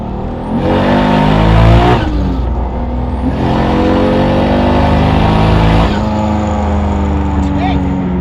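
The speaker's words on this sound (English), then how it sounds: "Let me roll in a nice second gear here." A 2JZ-swapped Toyota FRS accelerates hard in second gear with a loud engine roar that climbs steadily, a sharp break at a shift, then pulls again with a rising whine. Talk can be heard over the engine.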